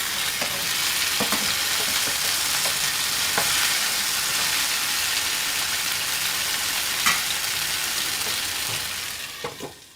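Chicken tikka sizzles steadily in a hot pan, a continuous bright frying hiss with occasional scrapes and knocks as the pieces are turned, holding level throughout before easing off at the end.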